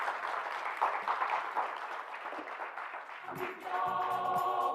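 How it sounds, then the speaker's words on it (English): Applause from a stakeholders' conference audience in Namibia, a steady dense patter that fills most of the stretch, then gives way toward the end to a tonal musical or voice-like sound over thinning clapping. "Can we please give him a warm round of applause as he introduces his presenters?"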